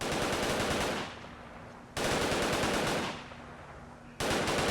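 Pipe pistol fire in Fallout 4, heard as loud bursts of rapid gunshots, each burst trailing into a short decaying tail before the next volley starts; no talking over them.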